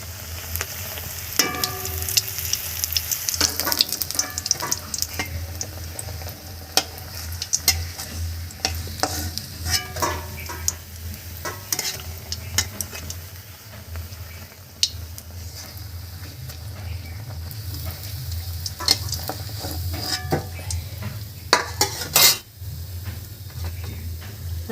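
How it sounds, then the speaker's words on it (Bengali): Bengali fuluri fritters fry in hot oil, a steady soft sizzle and hiss with frequent stirring scrapes and utensil clinks close by, no voices. "এই যে এরকমভাবে ভাজা হবে"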